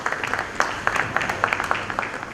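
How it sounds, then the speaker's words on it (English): Seminar audience at a lamp lighting applauding in a short, steady burst of many hands clapping, filling the hall without talk over it. "can we have a huge round of applause"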